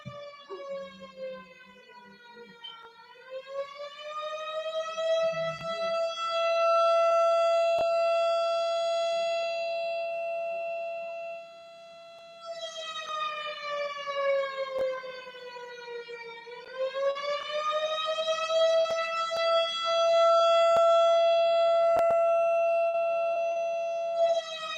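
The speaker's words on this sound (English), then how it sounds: "I'm just going to wait for them to get out the damn fire station, go do what they got to do, and cut that siren off" A fire station siren wails outside, a long rising and falling tone that swells, dips and returns over and over, loud and steady, with no speech.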